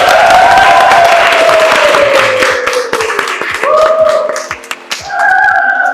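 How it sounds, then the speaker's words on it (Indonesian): Audience applause for a speaker at an Indonesian talk show, a dense burst of many hands clapping with a sustained tone running beneath it, thinning briefly near the end before swelling again. "Tepuk tangan sekali lagi buat Mas Andri Wibowo."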